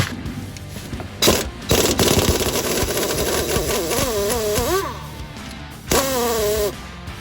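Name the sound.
impact wrench removing Ford Model A steering gearbox bolts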